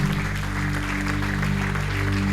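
A church congregation breaks into applause during a sermon, a broad continuous wash of clapping over a steady low hum.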